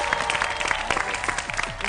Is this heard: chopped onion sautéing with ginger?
no